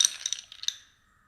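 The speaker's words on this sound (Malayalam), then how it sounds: "ഇതിലേക്ക് 1-2 ഐസ് ക്യൂബ്സും" One or two ice cubes drop into a glass of cardamom water, giving a quick cluster of bright, close clinks that ring briefly and then fade into silence.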